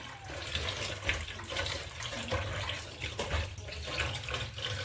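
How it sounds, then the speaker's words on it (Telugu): Half a kilo of mutton pieces being rinsed under a running tap, a steady close splash of water into the sink with small bursts as the meat is moved about. "మటన్ అయితే శుభ్రంగా వాష్ చేసుకుందాం ఇప్పుడైతే"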